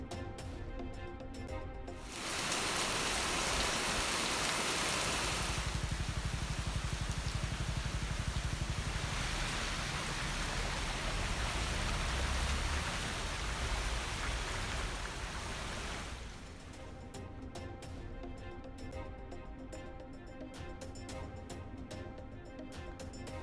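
Heavy rain pours down steadily in Mangaluru, Karnataka, a dense roaring wash that swells loud for most of the stretch and then eases to a lighter patter, with no talk.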